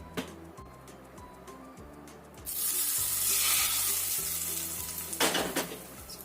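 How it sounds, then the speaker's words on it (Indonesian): Hot oil poured over chili sambal starts with a few quiet clicks, then breaks into a sudden loud, hissing sizzle that slowly eases off, with a brief extra crackle near the end. "Setelah benar-benar panas atau mendidih, kita matikan apinya. Kita siramkan ke atas sambalnya."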